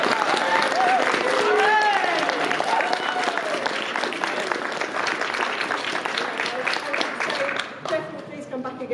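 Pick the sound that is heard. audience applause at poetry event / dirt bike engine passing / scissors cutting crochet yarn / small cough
audience applause at poetry event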